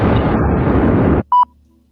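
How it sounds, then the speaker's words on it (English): A loud, dense explosion sound effect roars for just over a second, then cuts off abruptly, followed by a brief electronic tone. "I'm trying to get my explosion, man."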